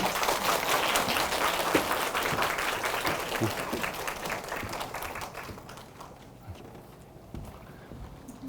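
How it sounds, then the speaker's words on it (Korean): Audience at a lecture opening a new academy centre in Ilsan bursts into dense, loud applause that gradually thins and fades over several seconds, with a few scattered claps and murmurs remaining. "박수로 부탁드리겠습니다."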